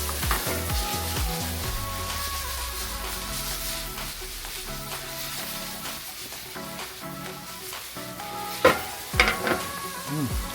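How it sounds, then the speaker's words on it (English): Prosciutto fries in a pan with a constant crackling sizzle. Occasional utensil knocks and stirring scrapes stand out near the end. "I'm going to add my prosciutto."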